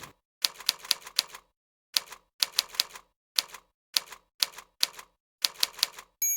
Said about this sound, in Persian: بعد شروع کنید به تایپ 10 انگشتی.